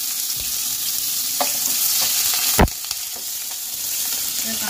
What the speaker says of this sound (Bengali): কাঁচকলাটাকে আমি একটু নেড়ে চেড়ে একটু লাল করে ভেজে নেব।